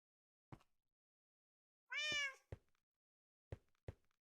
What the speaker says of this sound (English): Why is there cat noise?